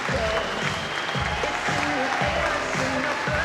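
Crowd applauding at a squash match at the British Open, a steady sustained clapping from many spectators with a commentator's voice talking over it.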